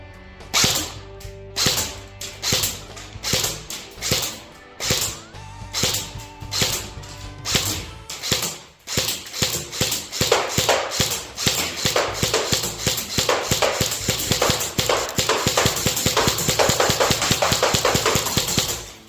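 G&G CM16 MOD 0 airsoft rifle fired on semi-automatic, a long series of close, sharp clacking shots, spaced at first and then following in quicker succession.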